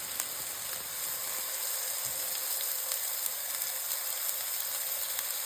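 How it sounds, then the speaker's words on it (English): Turkey meatballs frying in a pan, a steady hissing sizzle that holds at even loudness throughout with no talk. "I'm going to be adding them on this pan. I'm just going to let them fry."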